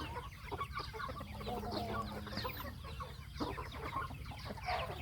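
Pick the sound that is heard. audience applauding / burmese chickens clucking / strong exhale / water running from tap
burmese chickens clucking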